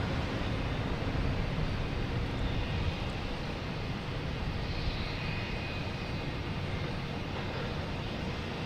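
A Lufthansa airliner on the move at Boston Logan Airport, heading out toward Munich: a steady, broad engine roar and rumble holding at an even level throughout, with no talk over it.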